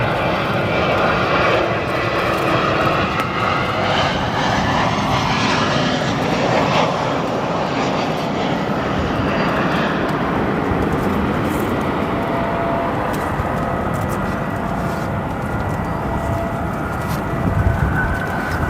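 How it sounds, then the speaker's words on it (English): Engines of a Spirit Airbus A320neo arriving in strong wind at O'Hare roar loudly, with a whining tone that shifts as the jet passes close, then the sound eases off into a fainter rumble. "we've got a Spirit A320neo fighting the winds here"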